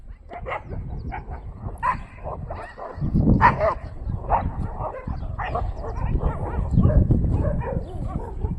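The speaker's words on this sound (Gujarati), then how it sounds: "કૂતરાની લડાઈ થઈ ગઈ છે" A pack of street dogs fights nearby, with a rapid run of yelps, snarls and barks that swells and fades for several seconds, while someone shouts briefly.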